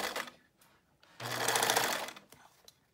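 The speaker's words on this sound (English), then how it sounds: "And then now we're going to sew, backstitch," A sewing machine stitches a two-layer cotton mask in a brief close burst of under a second, framed by a few soft handling sounds.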